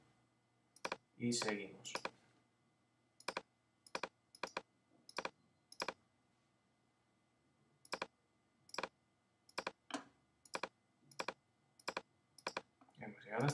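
Mouse clicks and short clicking taps while drawing paths in Photoshop, a dozen or so sharp, evenly spaced clicks, close and crisp, with brief speech near the start.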